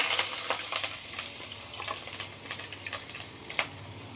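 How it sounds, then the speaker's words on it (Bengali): Onion and garlic dropped into hot oil for a pumpkin and egg mash, giving a steady close sizzle dotted with small crackles and pops that ease slightly as it goes on, with no one speaking. "পেঁয়াজ রসুনটা আমি এর মধ্যে দিয়ে দিচ্ছি তেলের মধ্যে"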